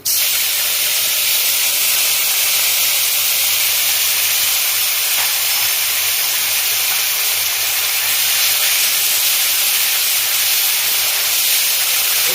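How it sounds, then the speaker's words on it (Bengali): Onion paste drops into hot oil for a tilapia curry, setting off a loud, dense, unbroken hissing sizzle that holds steady throughout. "এবারে পেঁয়াজ বাটা দিচ্ছি"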